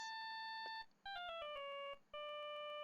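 A phone ringtone from the video game Phoenix Wright: Ace Attorney - Justice for All: bright electronic beeping tones in stepped melodic phrases, loud and close, repeating with brief gaps and no talk.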